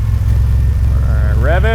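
The engine of a DIY AWD turbo S10 Syclone truck runs with a loud, steady low rumble, close by, while a voice speaks over it near the end.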